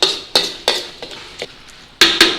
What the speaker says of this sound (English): just give the tomatoes a little chance to cook in there